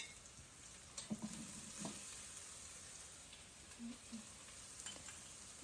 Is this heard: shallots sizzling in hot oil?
yes